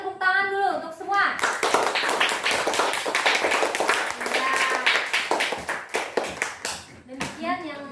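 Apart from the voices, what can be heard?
class clapping hands together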